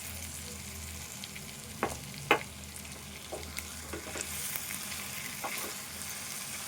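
Potato fry with roasted coriander powder being stirred in a pan, soft scraping strokes and a few sharper clinks of the spoon against metal over a faint continuous sizzle, quiet and close.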